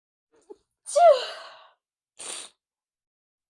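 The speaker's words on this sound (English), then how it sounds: "Hold on, I gotta sneeze." A single sharp sneeze bursts out close up, followed by a short breathy exhale and a faint sniff.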